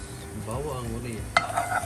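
Garlic frying in a little oil gives a soft, steady sizzle near the mic, joined by a sharper metallic clink of a utensil toward the end, with no talk over it.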